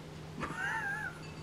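A pet cat lets out a single drawn-out meow that rises and then falls, close and clear against a quiet room with a low background hum.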